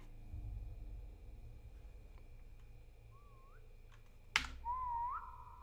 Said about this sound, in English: I'm the only one could fucking whistle